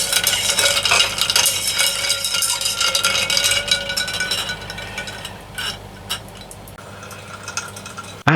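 A lab mixture being stirred after 100 milliliters of diethyl ether is added to a reaction quenched in ice water, giving a steady close swishing and light clinking of glassware that tapers off near the end, with no talk.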